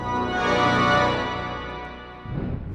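Pipe organ sounding a full, sustained chord that swells and then fades over a couple of seconds before a rougher, lower sound takes over near the end, loud and resonant with no talking.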